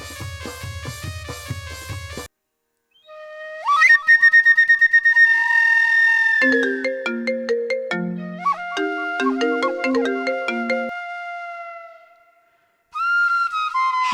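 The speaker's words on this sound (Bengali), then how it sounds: "তার চেয়ে বরং ওই হাবলু কারেন্টকে ফোন করি।" A mobile phone rings with a bright, melodic electronic ringtone that repeats in looping phrases. The ringing pauses briefly, then starts again, loud and close, with no voices.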